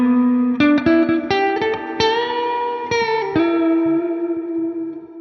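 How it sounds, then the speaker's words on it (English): Electric guitar chords through an AmpliTube 5 Mesa Boogie amp simulation ring out with lush channel 1 reverb, each strum trailing into a long, washy decay; loud and close, no talking. "let's add some reverb in channel 1"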